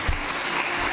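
Audience applause after a magic and mentalism act at a talent show, a dense steady wash of clapping filling the whole second with a slightly stronger burst near the start.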